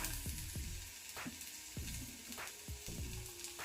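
Garlic and spices sizzling in a hot pan for corn garlic chutney, a continuous close frying hiss broken by repeated scraping stirs.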